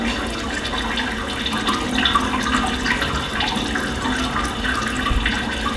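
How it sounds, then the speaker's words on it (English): Running water pours and trickles continuously at moderate level, a steady splashing stream with small bright droplet accents and no talk. "you can hear this water running"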